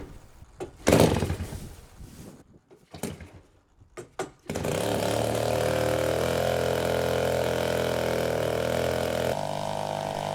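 A big 120cc EME gas engine on a large radio-controlled L-19 Bird Dog model plane sputters through a few coughing start attempts, then catches and runs at a loud, steady buzzing drone up close with a slight dip near the end.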